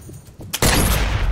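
A sharp burst of gunfire from a gun in Sniper Elite VR on Oculus Quest 2 erupts loudly after a quieter lead-in and rings on as a dense blast to the end.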